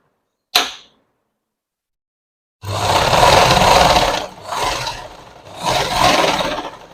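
Sewing machine stitching chudithar top fabric, running in loud close bursts with brief pauses, preceded by a single sharp click.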